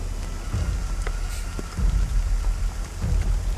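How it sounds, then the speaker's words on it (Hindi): Heavy rain pours steadily through a dramatic film scene, a dense continuous hiss with low rumbling weight and a few soft thuds, no voices over it. "बारिश हमारे साथ है।"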